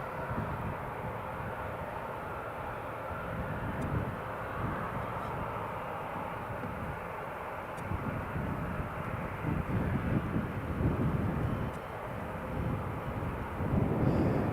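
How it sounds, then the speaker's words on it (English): A 21-year-old Jet2 Boeing 737-800 taxis at Newcastle International Airport, its engines giving a steady, distant whining hum with low rumbling over a continuous airport background. "Jet 2 just taxiing along."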